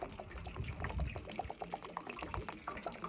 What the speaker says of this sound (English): That is the hot water draining.